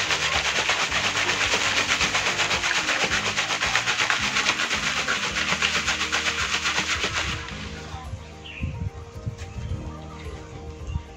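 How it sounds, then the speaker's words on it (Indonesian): Sand and water sloshing and rattling inside a closed jar shaken hard to separate silt from sand, a steady dense scraping wash for about seven seconds that then stops, leaving only faint handling sounds. "Sekarang saya tutup, sama akan saya kocok untuk memisahkan antara kandungan lumpur dengan pasir."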